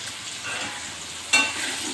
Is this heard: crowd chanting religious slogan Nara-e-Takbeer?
no